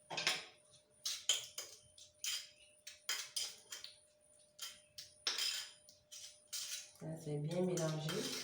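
Green clay being mixed with water in a bowl, a series of quick, close scraping and clinking strokes of a utensil against the bowl, ending in a brief louder rubbing sound.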